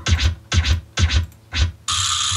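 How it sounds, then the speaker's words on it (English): A drum machine beat made in FL Studio thumps in four evenly spaced punchy hits with scratchy, noisy tops, ending in a sustained hiss-like burst; loud and close, with no talking. "I'm laying down drums with a drum machine."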